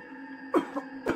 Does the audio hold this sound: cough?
yes